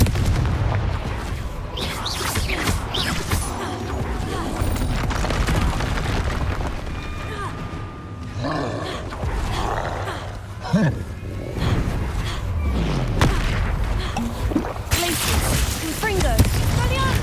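Confringo blasting spell explosions in a magical castle video game, repeated booming bursts and crackles spread across the stretch, mixed with other spell effects and roaring game sounds.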